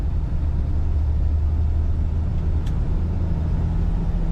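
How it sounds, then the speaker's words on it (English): A 1978 Checker A11 taxi cab is driven along with a steady, droning engine rumble and road noise from inside the car, holding an even level throughout and carrying no voices. "1978 Chevrolet Checker cab. Not every day I get to drive a cab."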